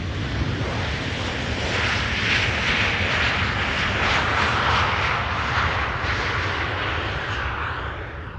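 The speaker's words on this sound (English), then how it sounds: "There are two 747s coming." Boeing 747 jets on landing approach to the Polderbaan runway at Amsterdam Schiphol, a loud, steady broadband engine roar holding throughout and easing slightly at the end.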